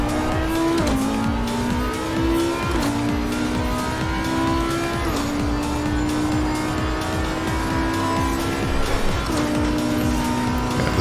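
Audi R8 Evo II race car in Assetto Corsa Competizione, its engine droning loud and steady, climbing in pitch through each gear before dropping at upshifts, with faint tire noise and no talking.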